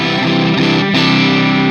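An electric guitar plays through a Flamma FS06 preamp set to a Fender amp model. The tone is loud, dense and continuous, with a rich, effected sound.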